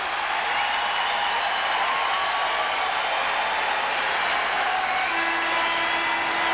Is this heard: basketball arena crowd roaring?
yes